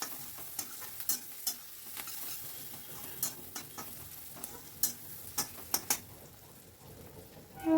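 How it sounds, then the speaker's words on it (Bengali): Onions with turmeric and chili powder being stirred in a pan, giving a soft sizzle broken by frequent light scrapes and taps of the utensil, close but fairly quiet and without speech. "এবারে আমি এর ভেতর দিয়ে দিচ্ছি হাফ টেবিল চামচ মতো হলুদের গুঁড়ো আর হাফ টেবিল চামচ মতো লঙ্কার গুঁড়ো। সব কিছু ভালো করে মিশিয়ে নিচ্ছি।"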